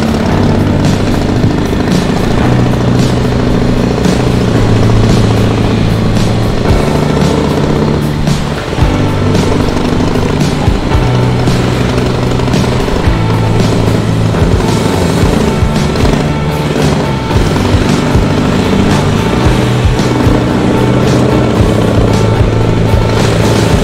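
Chopper motorcycle engine running loud and close, a steady, continuous rumbling idle with a dense mechanical throb and no talk over it.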